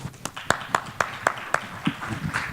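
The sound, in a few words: audience applause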